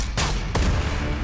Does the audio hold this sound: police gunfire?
yes